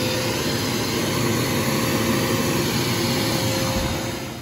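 A Walmart 1.5-gallon wet/dry vacuum runs close by with a loud, steady whining motor roar and a constant high tone, starting to fade just at the end.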